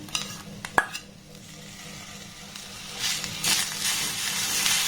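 Sugarcane jaggery melting in a pan over a low gas flame is stirred, with a few sharp utensil knocks at the start, then a steady scraping stir and a rising soft sizzle, close and without talk.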